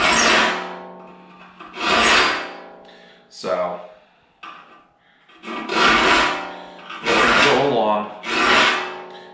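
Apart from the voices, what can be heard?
hand saw teeth being sharpened with a file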